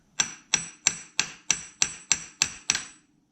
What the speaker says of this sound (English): this is where you might need the hammer